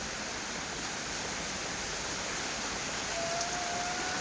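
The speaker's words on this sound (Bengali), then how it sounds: "এই দারুণ বৃষ্টি হচ্ছে।" Heavy early-morning rain pouring steadily outdoors during a storm, a dense, even hiss of falling water that stays constant throughout with no talking.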